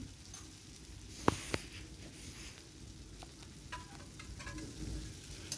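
Onion, garlic and ginger paste fries in a pan for an egg curry, a soft steady sizzle with a couple of sharp utensil clicks near the start and light stirring throughout.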